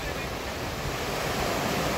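Sea waves washing onto the Seychelles coast, a steady broad roar of surf mixed with wind buffeting the microphone, continuous and moderately loud with no distinct breaks.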